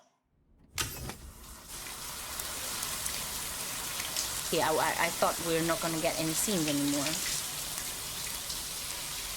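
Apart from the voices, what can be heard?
shower running in video game Death Stranding 2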